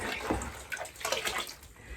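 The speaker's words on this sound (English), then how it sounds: "you can see immediately the water just runs down" Water from a tap splashes and runs in a brief, fairly loud gush, with no talking.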